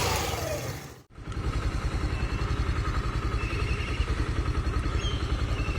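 A Suzuki GSX125 motorcycle engine starts after a brief pause, then settles into a steady, close, pulsing idle rumble.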